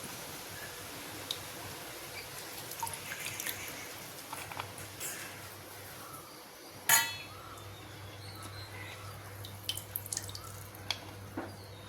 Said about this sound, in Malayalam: നല്ലതുപോലെ ഒന്ന് പിഴിഞ്ഞ് നമുക്ക് വേറെ പാത്രത്തിലോട്ട് എടുക്കാം